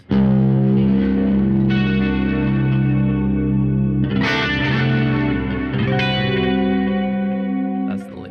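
A sustained, lush chord rings out with heavy effects and reverb, shifting voicing partway through, loud and alone without talking.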